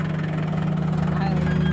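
A tractor engine idles steadily in a paddy field during harvest, a constant low drone with a hum throughout and faint talk over it.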